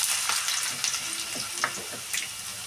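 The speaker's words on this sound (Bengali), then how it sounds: "এবার আমি আলুটা দিয়ে দেব।" Potatoes frying in hot oil with whole spices, dried red chilli, bay leaf and cumin, a dense continuous sizzle with a few spattering crackles and scrapes, close and steady.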